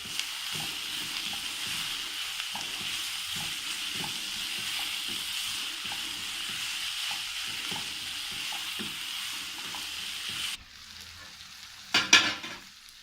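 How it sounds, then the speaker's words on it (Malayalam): Kerala egg curry masala sizzles steadily in a pan as turmeric powder is stirred in, giving rhythmic scraping strokes over a constant fry, then a brief hush and a couple of louder clanks near the end, with no speech. "ഇതുകൂടി ഇട്ടിട്ട് നമുക്ക് ഇതൊന്ന് ഇളക്കി അടച്ചു കൊടുക്കാം."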